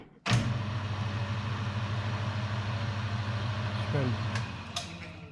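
A Hafco AL960B metal lathe fitted with a new 35-tooth gear starts up and runs at a steady, fairly quiet mechanical hum with a faint gear whine, close by and continuous.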